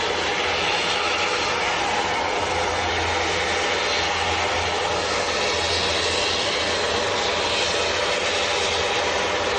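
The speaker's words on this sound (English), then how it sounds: "ATR 72 to Guernsey." An ATR 72 turboprop airliner departing Manchester Airport for Guernsey, its engines producing a steady, loud, broad roar that holds unbroken for the whole stretch with no talking.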